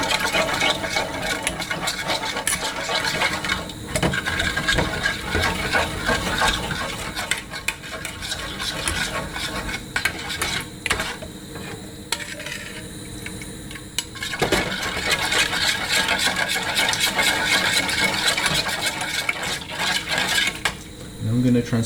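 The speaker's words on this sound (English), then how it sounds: "And you've got to mix it a lot." Macaroni and milk stirred in a pan, a continuous scraping and sloshing with utensil clinks against the pan, fairly close and steady, with no talk.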